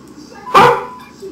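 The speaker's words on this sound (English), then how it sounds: "That's my dog, Criminal, right there." A single sharp dog bark, close and loud, standing out briefly against quiet background.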